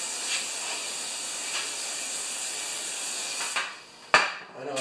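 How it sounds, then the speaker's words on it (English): Carburetor cleaner sprays into a Craftsman lawn mower with a steady, close hiss lasting about four seconds, ending in a short sharp clack. "Squirt a little bit of carb spray in there."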